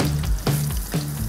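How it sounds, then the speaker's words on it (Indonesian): Pieces of boiled oxtail frying in hot oil, a loud steady sizzle with a few brief bubbling bursts and stirring noises, close and alone with no voices. "Buntut yang udah direbus kita goreng dulu ke dalam minyak panas."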